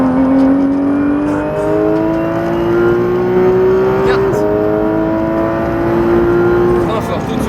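A Porsche 991 GT3 RS accelerates hard on the La Ferté race circuit, its engine note climbing steadily through the revs with a brief shift partway, loud and close throughout while an instructor talks over it.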